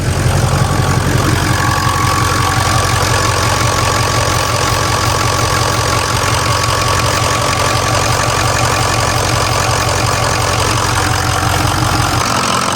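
A large truck engine with newly installed one-piece up pipes idles steadily and loudly after start-up with a rough, knocking rumble, running continuously throughout.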